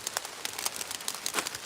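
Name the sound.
rain falling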